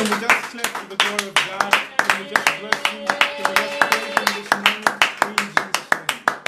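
A church congregation claps along in steady rhythm in praise of Jesus Christ, the loud, even beats carrying on close and continuous over a sustained musical tone.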